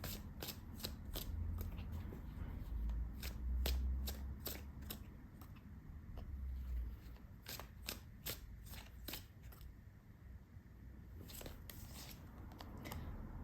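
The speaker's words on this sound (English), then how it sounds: "they want me to shuffle a little bit more" Tarot cards are shuffled in a rapid series of crisp riffling bursts, close and fairly quiet, with no talking.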